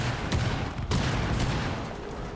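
A cluster charge going off in the video game Rainbow Six Siege, producing a dense, continuous run of rapid blasts that fills the whole moment, loud and close, with no talk.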